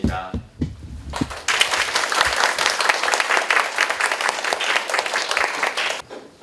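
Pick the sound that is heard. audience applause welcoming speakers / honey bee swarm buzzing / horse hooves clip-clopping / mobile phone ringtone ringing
audience applause welcoming speakers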